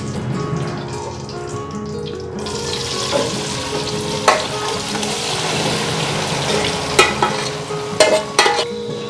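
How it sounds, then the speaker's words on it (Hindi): Apple and milk halwa with cardamom roasting in a pan over medium flame: a steady broad sizzle with sharper scraping stir clicks at intervals, louder after a soft opening, no voices. "मीडियम फ्लेम पर आपने इस मटेरियल की भुनाई करनी है"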